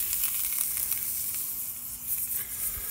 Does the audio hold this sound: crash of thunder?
no